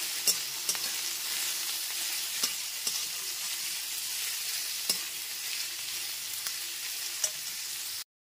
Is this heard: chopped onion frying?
yes